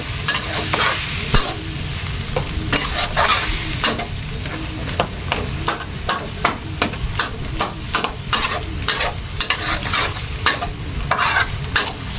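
Fish being mashed and stirred in a pot for a Thai chopped-fish curry with papaya, giving a steady run of scraping, clattering utensil strokes with a soft sizzle underneath and no talk.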